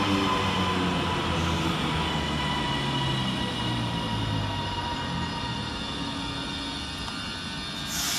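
An Avanti West Coast Class 390 train races through Lockerbie station, a steady loud rumble and rushing roar of wheels and carriages held close for the whole stretch, with no voices.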